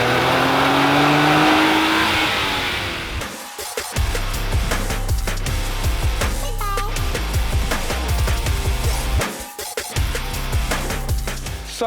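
A stock Nissan GT-R R35 engine revving hard, a loud sustained roar that dips briefly, then climbs again through repeated rev bursts at close range.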